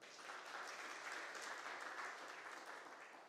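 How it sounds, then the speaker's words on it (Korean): A church congregation applauds during a service, a steady wash of clapping from many hands that holds evenly for several seconds and tapers slightly at the end, with no talking over it. "박수 한번 쳐드립시다."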